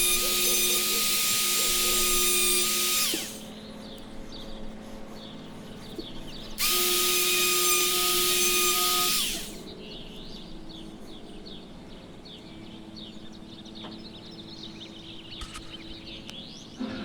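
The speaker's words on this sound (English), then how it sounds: "I'll use my Dremel and a burr bit to remove the plastic from the front standoffs." A Dremel rotary tool with a burr bit grinds plastic standoffs on a custom Matchbox Jeep Gladiator model. It gives two loud, close, high-pitched whining bursts of about three seconds each, separated by a quieter stretch of faint workshop noise.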